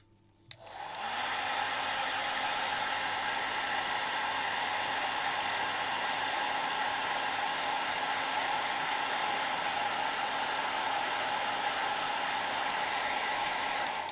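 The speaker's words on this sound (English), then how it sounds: "I'm going to air dryer it, which is the same as a hair dryer" An air dryer, working like a hair dryer, blows on a painting: after a click it switches on and holds a loud, steady whooshing hiss with a constant motor whine, uninterrupted and alone.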